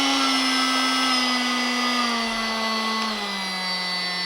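A Parkside 20V Performance cordless heat gun (PPHLGA 20 Li A1) blows air in a steady, loud, close whine, its motor pitch sliding slightly lower partway through as the airflow setting changes.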